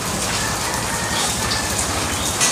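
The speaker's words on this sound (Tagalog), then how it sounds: "Kahit malakas ang ulan." Heavy rain pours down in a steady, dense hiss close by, loud and continuous.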